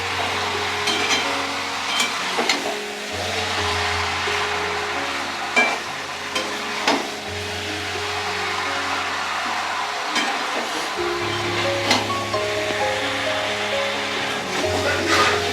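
Marinated chicken cooking in a kadai (wok) for chicken kosha, giving a steady close sizzle and frying hiss with scraping and stirring clatter all the way through, and occasional sharper knocks of the spoon against the pan.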